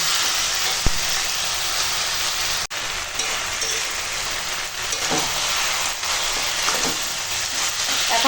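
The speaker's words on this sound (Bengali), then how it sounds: "মুড়োটা দিয়ে কষাচ্ছি এখনো পর্যন্ত কোনো জল দিইনি" Cabbage and a fish head being sautéed dry in a pan without water, giving a steady, loud broadband sizzle and hiss that runs throughout with small crackles and no talking.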